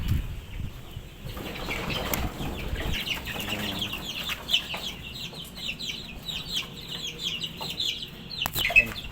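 Chickens at a poultry farm cluck and squawk nearby, with bursts of wing flapping and overlapping calls from several birds, fairly loud and continuous throughout.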